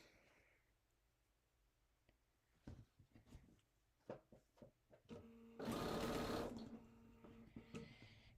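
Sewing machine stitching small quilt pieces for a Halloween quilt, with scattered clicks and handling of fabric before one loud, steady burst of stitching lasting about a second, then quieter clicks.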